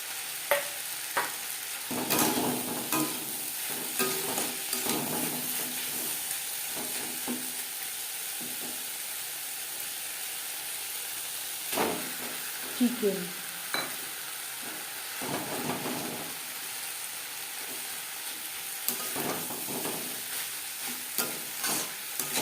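A spatula repeatedly stirs chicken patty filling with ginger and green chilli paste in a hot pan, giving scraping strokes over a continuous close frying sizzle.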